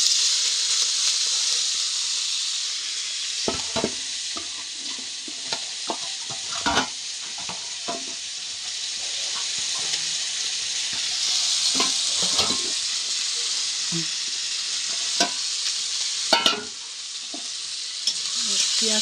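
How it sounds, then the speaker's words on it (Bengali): Chopped onions frying in oil in a pan, a steady close sizzle with occasional sharp pops and stirring clicks throughout. "এখন পেঁয়াজ কুচিটা দিই।"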